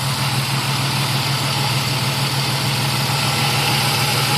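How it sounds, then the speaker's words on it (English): A car engine idles steadily with a low, even hum and light vibration, continuous and close, with no other sounds. "Now that the car is running"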